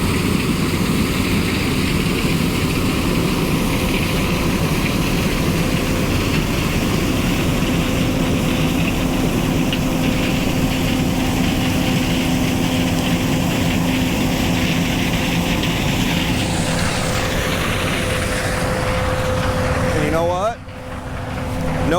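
Header knives on a corn harvester chop and grind standing corn stalks low to the ground, a loud steady mechanical roar with engine drone running continuously, easing off briefly near the end.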